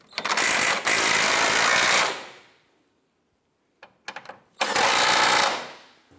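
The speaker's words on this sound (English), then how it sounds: "Go ahead and tighten down our front subframe bolts." Power tool driving the front subframe bolts on a 2004-2008 Acura TL: two long, loud rattling bursts, a pause, a few short stuttering blips, then another sustained burst, all close up.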